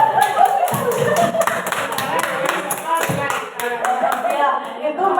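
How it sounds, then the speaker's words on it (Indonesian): A group claps hands together at an Indonesian school discussion, with rhythmic, fairly evenly spaced claps and some chuckling and voices mixed in beneath. "Tepuk tangan dulu dong."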